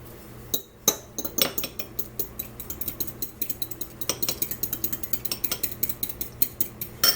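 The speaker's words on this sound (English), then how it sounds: "you want to beat 2 eggs" Two eggs are beaten in a bowl with a utensil, producing quick rhythmic clinking strokes against the bowl that speed up into a steady, close whisking pattern, with no talking.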